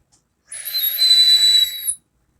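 Air whistles through the airflow of an empty Genesis RDTA atomizer with no coil build, a thin high-pitched whistle with a breathy hiss that rises after a brief pause, holds for about a second and a half, then cuts off.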